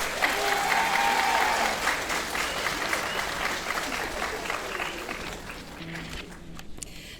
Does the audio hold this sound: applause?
yes